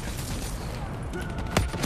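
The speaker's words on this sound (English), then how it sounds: "Good thing I have this light machine gun, though" A light machine gun rattles in rapid bursts in Call of Duty Black Ops 3, loud and dense, with one sharper blast near the end amid chaotic combat noise.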